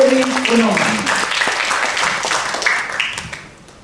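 An audience at a Catholic scripture-reading contest claps in a dense, bright wash of applause that fades toward the end, with a voice talking over the start.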